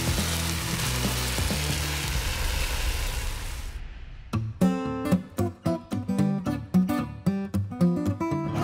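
Potato cubes, chopped tomatoes and tomato sauce go into a hot pan with a steady loud sizzle for about four seconds, then a run of repeated rhythmic scraping and tapping of a spoon against the pan.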